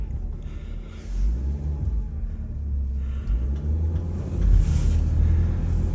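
A car's engine rocks back and forth as the driver tries to get unstuck in winter snow, producing a steady low rumble with swelling surges of revving, close and continuous.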